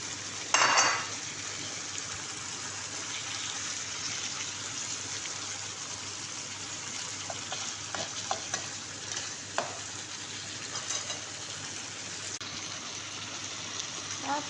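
Chicken drops into a hot pan with a sudden burst of sizzling, then keeps frying with a steady hiss while a utensil scrapes and stirs against the pan, occasional clinks standing out, for chicken cooked with liver.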